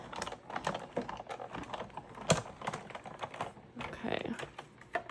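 A die-cutting machine feeds paper through its rollers while making junk journal embellishments, giving a close, uneven run of clicking and crunching mechanical noise with a louder snap near the middle.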